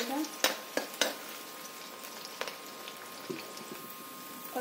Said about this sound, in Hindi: तो अब इसमें प्याज डाल दूंगी मैं, मैंने प्याज डाल दिया फ्रेंड्स, और मिर्ची भी डाल दिया है इसमें,